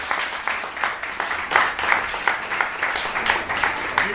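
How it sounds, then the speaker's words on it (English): Crowd applause at a Baggy Blues awards night in 2013, steady loud clapping from many hands in a hall, sustained throughout with slight swells and no talk over it. "Big clap."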